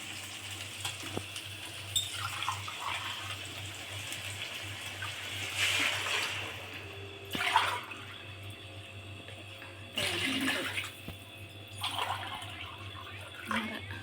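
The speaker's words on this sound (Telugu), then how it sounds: "ఇప్పుడు రెండున్నర గ్లాస్ వాటర్ వేసుకున్నాము" Water splashes into a cooking pot for vegetable biryani in a few brief, soft pours over a low background hum.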